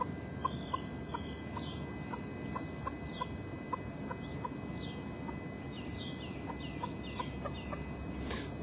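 Bantam chickens cluck and call repeatedly in short bursts close by, steady farmyard murmur underneath with no talking.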